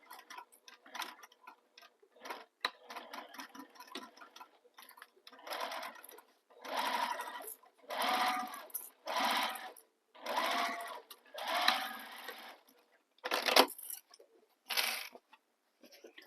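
A sewing machine stitches a bag seam in a string of rapid, rhythmic bursts separated by brief stops, close and clear, with a clicking mechanical patter.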